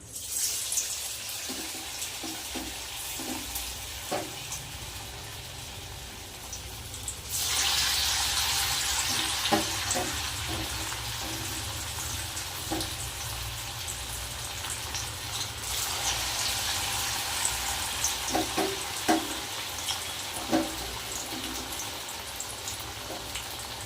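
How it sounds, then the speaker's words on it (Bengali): Spiny gourds stuffed with chhana fry in hot oil with a quiet hiss that swells into a stronger, denser sizzle partway through, scattered with small pops and crackles. "এবার কাঁকড়ের পুর ভরা ছানার পুর ভরা কাঁকরোলগুলো তেলের মধ্যে দিয়ে দেবো"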